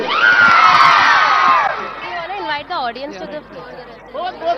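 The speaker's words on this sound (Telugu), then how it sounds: "గట్టిగా చప్పట్లు జై తెలంగాణ." A stadium crowd at a Saddula Bathukamma celebration in Saroornagar Indoor Stadium roars with cheers and shouts, loud at first and then thinning into scattered whoops and chatter.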